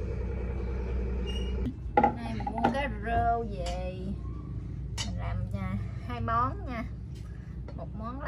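Knife cuts and scrapes against a board as yam is cut for soup come in irregular bursts while someone talks over the work, close by.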